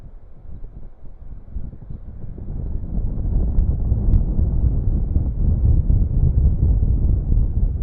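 Gusty wind rumbles against the microphone while surface lure fishing for sea bass, building louder after a few seconds and staying steady and heavy throughout.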